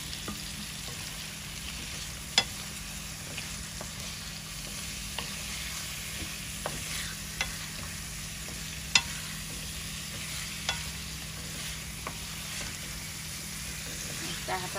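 Potato pieces cut thin and large, frying in a pot of river-fish and potato curry, give a steady low sizzle with scattered stirring clicks and taps, close by, with no talk over it.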